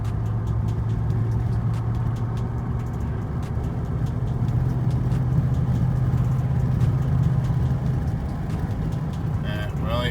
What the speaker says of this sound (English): Just giving a little bit of gas. As you can see, we're shifting through the gears there.